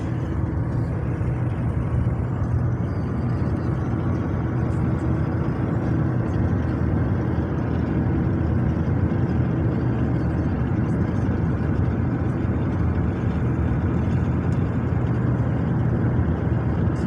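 Steady, loud car interior road noise while driving, a continuous low rumble and hum of tires and engine with no breaks, no talk.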